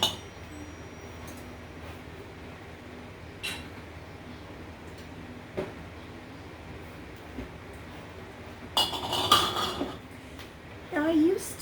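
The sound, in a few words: glass quart jars clinking, taken out of washer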